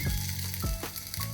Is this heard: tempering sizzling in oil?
yes